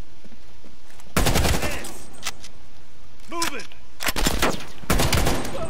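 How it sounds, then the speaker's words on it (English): Bursts of automatic gunfire in Call of Duty: Black Ops Cold War, three or four loud rattling volleys separated by short gaps, with a player's voice heard between them. "Where are you? Where are you shooting from?"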